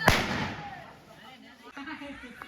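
Diwali firecrackers going off in a market street in Raithal: one sharp loud bang at the start that rings out and decays, followed by scattered fainter pops and crackles farther off, with voices in the background.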